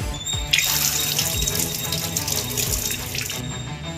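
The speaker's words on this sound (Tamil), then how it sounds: "இதை நல்லா கழுவி எடுத்துட்டு வந்துடுவோம்." Chopped onions are rinsed under a running kitchen tap, water gushing and splashing steadily into a sink at close range for several seconds, with no voices.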